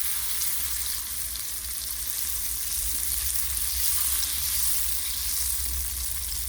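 Butter sizzling in hot caramel sauce being stirred for popcorn, a dense continuous hiss held at a steady level throughout, close and fairly loud, with no talking.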